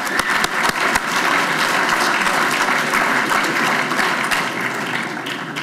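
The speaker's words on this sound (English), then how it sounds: "everybody give themselves a big hand of applause for being here tonight" An audience at a University of Scranton evening lecture on free trade gives a big round of applause, dense sustained clapping from many people that fills the room loudly and fades slightly toward the end, with no talk over it.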